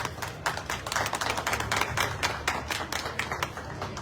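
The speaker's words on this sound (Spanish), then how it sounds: "aplauso." Guests at a book fair in Lima are welcomed with applause from a fairly small audience, brisk uneven clapping that sounds close and rather thin.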